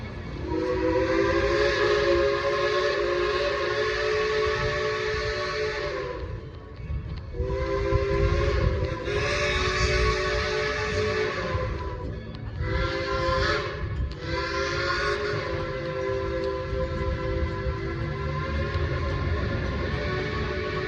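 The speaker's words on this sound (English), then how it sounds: "What you heard behind you was the train." A long steam train whistle blowing loud and steady at Dollywood theme park, broken by a few brief pauses and short blasts, over rumbling train noise.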